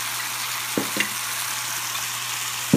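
Coffee-marinated steak cooking in a hot pan, a steady low sizzle of frying running throughout with a few brief soft clicks or taps from handling the pan.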